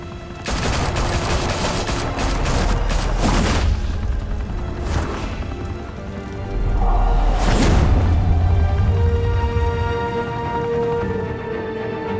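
Gunfire in the video game Batman: The Telltale Series, loud bursts of shots and booming impacts at a rough, irregular rhythm that swell and fade across the scene, set over a sustained low rumble.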